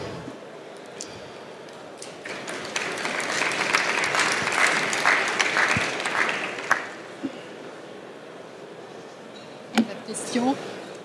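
An audience at a trade show stand claps for recruitment candidates in a sustained burst of applause that swells and then fades out, followed by a few scattered claps and a brief voice.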